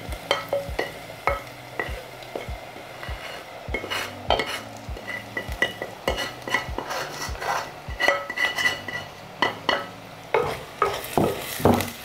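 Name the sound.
stirring fish curry in a pot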